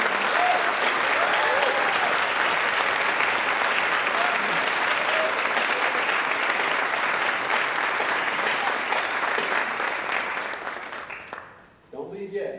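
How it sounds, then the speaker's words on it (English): Sustained applause from an audience welcoming new American citizens at a naturalization ceremony, loud and steady for about eleven seconds before fading out, with a few voices afterward. "I would like to ask everybody to now give a round of applause to our new American citizens and welcome them."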